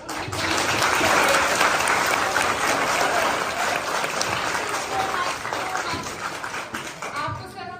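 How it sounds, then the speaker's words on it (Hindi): Loud, dense applause from a large audience at a school ceremony, sustained for several seconds and tapering slightly at the end. "एक बार जोरदार तालियां इस ओकेजन के लिए"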